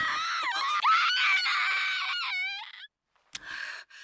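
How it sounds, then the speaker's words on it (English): A woman screams in an anime episode, a loud, shrill, wavering cry held for nearly three seconds, then cut off and followed by a shorter renewed shriek. "That was some fucking screaming right there."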